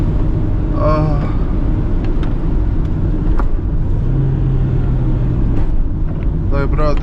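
A Toyota Corolla engine drones and revs under load while drifting, a continuous close rumble with wind buffeting and brief squeals, as a person talks excitedly over it.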